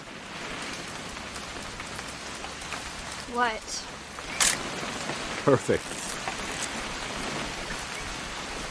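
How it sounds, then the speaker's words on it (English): Steady rain patters on surfaces in the video game What Remains of Edith Finch, a constant close wash with a few sharper clicks and brief voices speaking over it. "It's gonna rain the whole weekend,"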